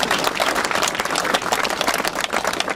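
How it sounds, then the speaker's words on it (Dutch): Warm audience applause at the opening of an asparagus season event, a dense and steady burst of clapping from a sizeable crowd, close and loud throughout. "Dus misschien dat ik daar toch een hartelijk applaus voor mag vragen."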